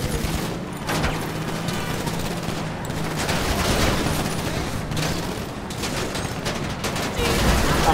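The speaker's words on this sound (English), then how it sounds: "I'm using the AP pistol, that's it." AP pistol fire in GTA 5 Online: rapid, dense bursts of gunfire with clatter and booms throughout, mixed with game noise.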